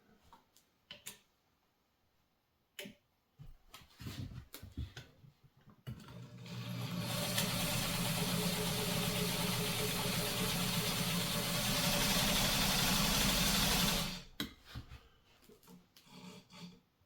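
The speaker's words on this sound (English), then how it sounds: "And let's sew something heavy duty." A Brother 1350 sewing machine stitching through two layers of denim, running as a steady, loud mechanical whir for about eight seconds, with handling clicks and rustles before and after.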